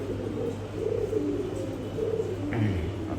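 Pigeons in a breeding loft give low, soft, rolling coos that swell and fade over a steady hum, with a brief higher chirp near the end and no voices.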